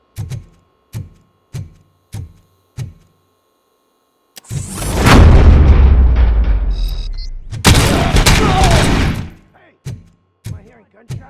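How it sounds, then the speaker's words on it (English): Sharp single gunshots crack out one by one at a steady pace, then give way to long, loud bursts of heavy rumbling fire before the spaced single shots return. "Am I hearing gunshots?"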